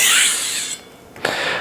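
A chef's knife drawn across a sharpening stone from tip to bolster gives a close, gritty scraping rasp: one long stroke that fades out, then a brief sharper scrape near the end.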